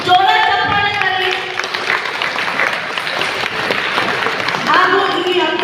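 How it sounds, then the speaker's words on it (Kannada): Loud crowd applause at a Rapido bike-taxi captains' gathering, dense clapping filling the middle stretch, framed by someone speaking at the start and again near the end. "ಈ ತರ ಜೋರ ಚಪ್ಪಾಳೆ ಬರಲಿ"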